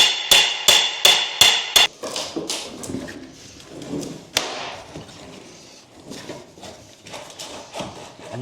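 A hammer pounds on old wood while a roof is torn open during a renovation of a 110-year-old house, with six quick sharp strikes followed by scattered thuds and knocks, close and loud.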